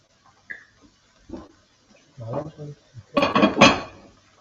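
Stainless steel pans and utensils clatter and clink sporadically while food is cooked in a home kitchen, with short metallic knocks building to a louder cluster of scraping and clanking near the end.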